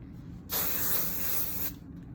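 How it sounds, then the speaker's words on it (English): A single continuous burst of hairspray hisses for about a second, close and loud, then stops, with quiet room tone before and after. "spray it a little bit"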